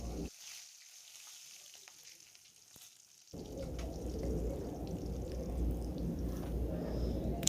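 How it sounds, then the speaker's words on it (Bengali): Brinjal slices sizzling in hot oil in a village-style kitchen, the frying hiss swelling loud and steady after a quieter opening stretch, close and continuous with no voices. "লবণ হলুদ দিয়ে আমি বেগুনটাকে ভেজে নেব"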